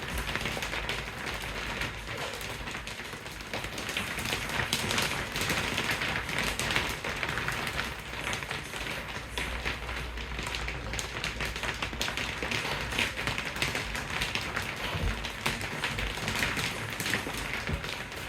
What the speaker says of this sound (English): It might be hail actually, it's exciting, isn't it?